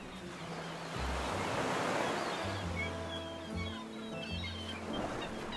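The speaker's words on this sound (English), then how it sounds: "Waves crashing, seagulls singing, it was quite the sound." Ocean waves crash and wash in a broad roaring surge, with wind noise over the sea, while low musical tones play beneath, and no speech is heard.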